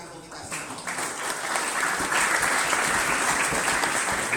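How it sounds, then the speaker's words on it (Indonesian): An audience at a school civic-education gathering in Kediri, Indonesia, breaks into applause that swells within the first second and then holds as sustained, dense clapping from many hands. "Tepuk tangan untuk kita semua."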